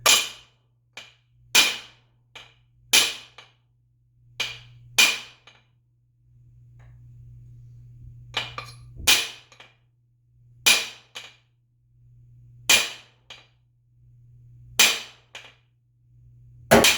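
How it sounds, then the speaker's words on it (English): A hammer strikes a car transmission part in spaced metallic blows, often in quick pairs, sharp and close, over a low steady hum across the whole stretch. "See? Just takes a little bit of hammering."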